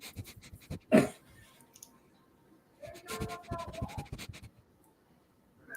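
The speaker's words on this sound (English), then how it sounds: "that's me sniffing in the mic" Someone sniffs right into a microphone: a sharp close sniff, a pause, then a longer run of snuffling sniffs, with faint scratchy handling noise between them.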